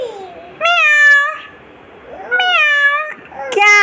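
A cat meows three times, drawn-out and close, with short quiet gaps between the calls and the last one cut off at the end.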